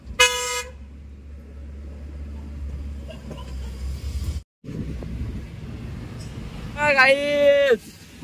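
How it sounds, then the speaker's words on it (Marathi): A car horn toots briefly at the start, then blares again longer near the end, over engine rumble and wind. "आता मस्त तो बघा पाठून हॉर्न मारतोय कसा."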